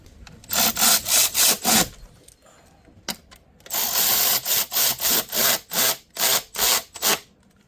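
Bolts are tightened on the valve cover of an Infiniti FX35 or G35, heard as a close, rhythmic series of rasping ratchet strokes in two bursts separated by a short pause, with no talking.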